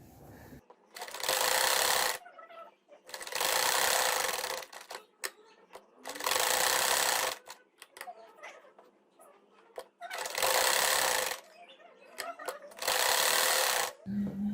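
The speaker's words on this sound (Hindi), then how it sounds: "आप जो है वो मैं डबल सिलाई लगाने लगी हूँ, आप ये देख लें" A sewing machine double-stitching a poncha (mohri trouser hem), running in five loud, steady whirring bursts of about one to two seconds each, separated by quiet pauses with faint handling sounds.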